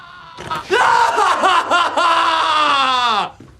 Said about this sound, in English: tests it by screaming inside